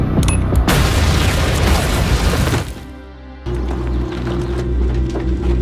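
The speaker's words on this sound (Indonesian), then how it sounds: "Carlita yang mendengar tantangan tersebut langsung meledakkan bom di luar markas sehingga pertempuran pun dimulai." A bomb explodes outside a base in an action film, a heavy roaring blast with crashing debris that rumbles for a few seconds, then drops away to lower ambient sound.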